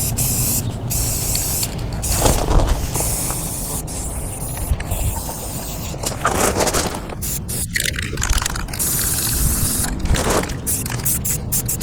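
A spray can of paint with built-in primer coats a Commodore 64 case in repeated close, loud hissing bursts separated by short pauses, with faint scraping and handling between sprays.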